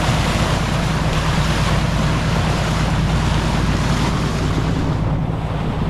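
A fishing boat's engine running at sea off Placer, Surigao del Norte, a steady low droning hum mixed with rushing water and wind buffeting, loud and continuous with no voices.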